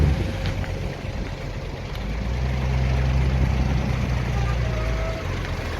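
A Daewoo Mega 300-V wheel loader's heavy diesel engine idles and revs with a low steady rumble, close by, its pitch rising and settling; a voice is heard faintly in the background.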